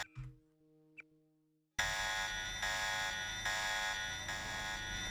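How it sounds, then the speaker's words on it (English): A security alarm in the video game Deus Ex blares suddenly after a quiet stretch, a loud, steady electronic buzzing tone that pulses in repeated cycles and continues to the end. "I've already tripped the alarm"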